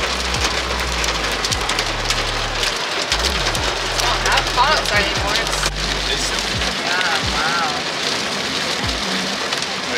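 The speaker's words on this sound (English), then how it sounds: "It's been raining 5 minutes." Heavy rain pours steadily, a dense constant roar of water on surfaces, with people talking casually over it.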